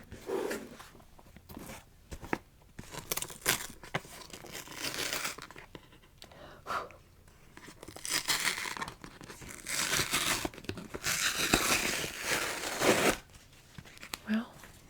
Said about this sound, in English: Let's get rid of the tape then.